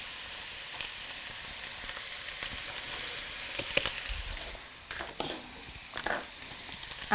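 Thin-sliced carrots, green beans, green peas and cauliflower florets sauteing in a pan for Indian cooking, with a steady close sizzle and occasional stirring scrapes, no talk.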